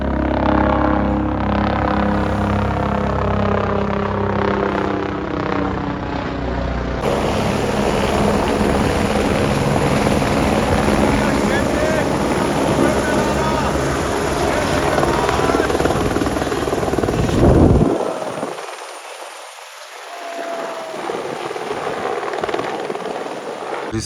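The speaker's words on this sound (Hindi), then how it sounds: "चारों तरफ से हेलीकॉप्टर्स की आवाज़।" Steady, loud helicopter rotor noise thrums throughout among snowy mountains near Kedarnath, a low chopping drone that shifts as the aircraft passes, with a brief louder whoosh near the end.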